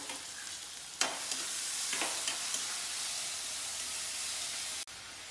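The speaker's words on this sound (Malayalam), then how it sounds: "സവാള ഇടുന്നത്, ഇഞ്ചി, പച്ചമുളക്, ഇതെല്ലാം ഒപ്പരം തന്നെ അങ്ങ് വഴറ്റ എണ്ണയിൽ" Onion, ginger and green chilli sauté in hot oil over cumin seeds, giving a steady, fairly quiet hiss of frying with a few soft stirring clicks and scrapes near the start. Close by, with no voices.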